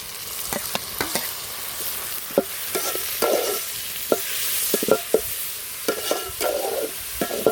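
Tomatoes added to browned onions fry in a pan for a Kerala-style country chicken curry, with a steady sizzle under repeated sharp scrapes and knocks of a spoon stirring, close and moderately loud.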